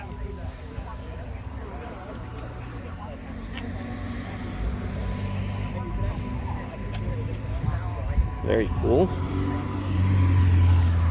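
Cars arriving and leaving at a sunny outdoor Cars & Coffee meet in Greater Vancouver, with a steady wash of engine and road noise and a louder car passing near the end, under a voice.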